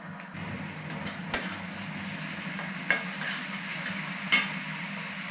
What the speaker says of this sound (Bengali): আমি প্রথমে আদা বাটাটা দিচ্ছি